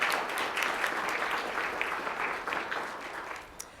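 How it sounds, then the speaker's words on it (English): Sustained applause from an audience at a chamber of commerce annual meeting, a dense, even roll of many hands clapping that fades slightly toward the end. "Let's give them a round of applause."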